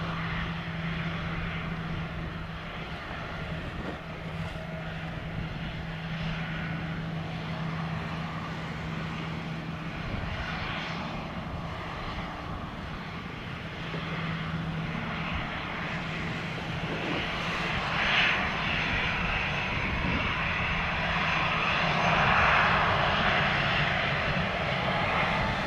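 Airliner powering up for a full-length takeoff roll at Montego Bay airport, Jamaica: a steady, loud engine roar with broad rushing noise that swells gradually toward the end, heard from a distance with no voices.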